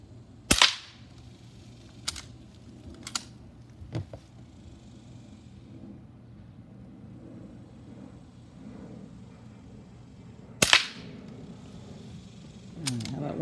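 A Rossi Rio Bravo .22 lever-action rifle fires several sharp, crisp shots outdoors, spaced several seconds apart, with quieter clicks and handling sounds between them.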